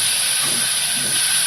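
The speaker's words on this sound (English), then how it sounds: "he hissed steam at Scott" Cartoon steam locomotive from Thomas and Friends releasing a loud, steady hiss of steam that fills the whole brief moment with no voices.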